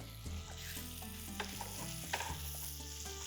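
Garlic sizzles in butter with browned mushrooms in a pan, a soft, steady frying hiss with light stirring clicks beneath a tonal musical backdrop.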